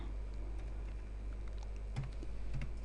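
Steady typing on a computer keyboard, a quick run of light clicking keystrokes close by over a constant low hum, with no one talking.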